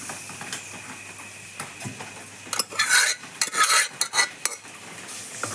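Lentils, tomato and drumstick curry stirred in a pot, with scraping, clinking utensil strokes in short bursts over a quiet bubbling background, louder in the middle.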